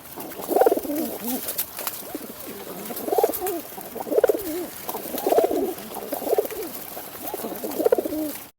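Rock pigeons give repeated throaty, rolling coos in a steady rhythm, close and clear, about six phrases in succession.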